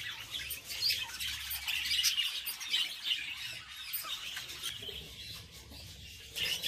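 Young budgerigar chicks, newly out of the nest, chirp and squawk continuously in a busy, overlapping chorus of bright high calls, with no talking.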